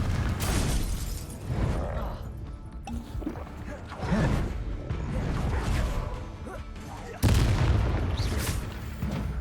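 Magical blast of the Confringo spell in Hogwarts Legacy, a string of heavy booming crashes and shattering impacts recurring every couple of seconds, loudest burst near the end, set against dense game noise.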